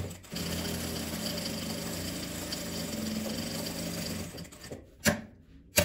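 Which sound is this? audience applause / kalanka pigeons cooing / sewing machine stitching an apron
sewing machine stitching an apron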